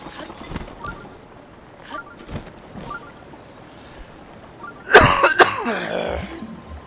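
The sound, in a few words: coughing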